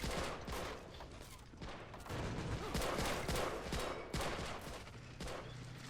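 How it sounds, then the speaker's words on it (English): Machine guns fire on a World War II beach assault by US Marines at Guam, 1944, in the game Men of War Assault Squad, heard as faint, fairly distant rapid bursts of gunfire with sharp cracks scattered through the clip. "the machine guns are going to be shooting down a lot of the Marines to try and get too close"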